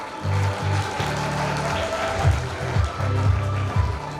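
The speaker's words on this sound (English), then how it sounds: "Let's give them a big round of applause" Parents applauding at a Grade VII family jamboree award ceremony, a broad wash of clapping that swells and continues over a steady low tonal hum, with louder bursts toward the middle and end.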